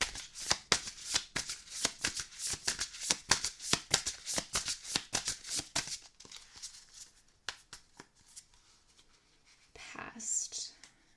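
Animal Spirit Oracle cards are shuffled close up in a rapid, crisp papery riffling rhythm for several seconds, then slow to sparser flicks and handling noises, with soft breathy whispering near the end.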